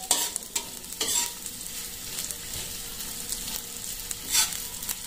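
Garlic, ginger and onion sautéing in a pan for a coconut-milk shrimp dish, a steady close sizzle broken by a few sharp scraping stirs, with no one talking.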